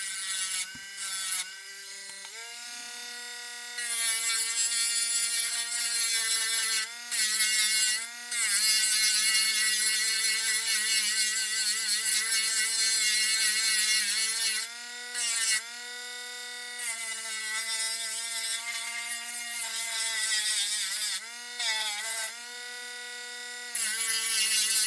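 A low-speed rotary tool whines steadily as it cuts plastic parts of a 1/24 Airfix Spitfire kit, a continuous high buzz that briefly dips and resumes several times.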